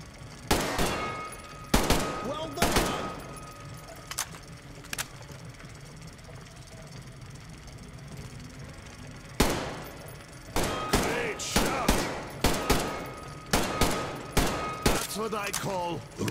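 Gunfire in the Metro Exodus Sam's Story DLC: loud, sharp single shots in irregular bursts, several clustered near the start and a rapid run toward the end, with quieter game ambience between.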